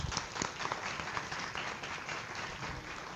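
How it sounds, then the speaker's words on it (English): Steady applause from a crowd fills the clip, a dense wash of clapping at a moderate distance. "Round of applause."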